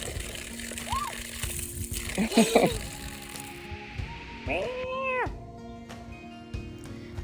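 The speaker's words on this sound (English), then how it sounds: "Every morning when I come out, I'm greeted by the little barn kitties" Barn kittens on a farm meow at breakfast time, with several close, rising and falling cries heard mostly alone against a quiet background, with faint sloshing nearby.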